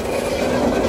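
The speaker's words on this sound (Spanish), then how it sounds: "Formación encabezada por la locomotora GT26, la sudafricana 9405." Train led by South African-built GT26 diesel locomotive 9405 on the General Urquiza railway in Argentina, bound for Garupá, rumbling past with a steady, loud, continuous roar and rolling wheel noise.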